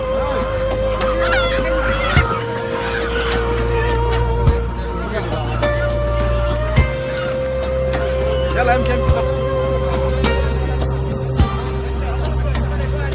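Live poultry including white turkeys and chickens at a small bird market in Saudi Arabia, with repeated clucking, squawks and gobbling calls over a constant low hum, near and fairly loud, and someone talking throughout.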